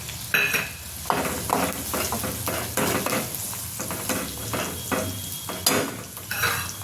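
Finely chopped onions fry in a pan for Kathiyawadi brinjal oro, a steady close sizzle broken by repeated scraping and clanking of a spoon stirring against the metal.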